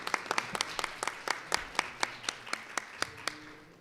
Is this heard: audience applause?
yes